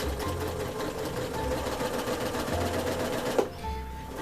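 A sewing machine chain-pieces quilt blocks one after another, its needle running in a fast, steady mechanical rattle with a brief pause near the end before it starts stitching again.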